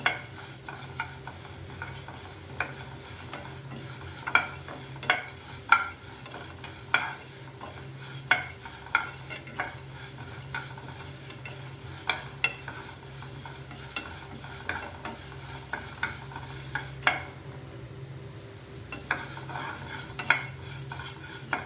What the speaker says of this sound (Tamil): நல்லா வறுபடணும்.